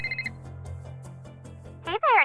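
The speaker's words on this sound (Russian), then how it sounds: "О, телефон, ура!" Telephone ringing inside the Nancy Drew video game Smertelnoe ustroystvo: a few short, even electronic ring bursts at the start over low background game music, before a voice begins to speak.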